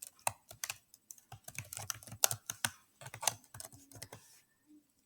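Keys tapped on a computer keyboard while a password is entered, a quick irregular run of sharp clicks with brief pauses, close and clear with no talking.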